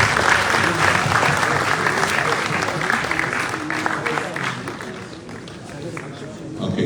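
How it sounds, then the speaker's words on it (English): Sustained applause from an audience at a presidential cabinet retreat, steady and fairly loud throughout, with some voices mixed in and a slight easing near the end. "Let's give them a round of applause."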